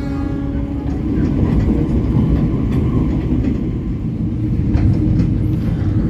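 Cikuray passenger train, a crowded economy service, running with a dense, steady low rumble and rolling hum heard from inside the carriage, faint knocks scattered through it.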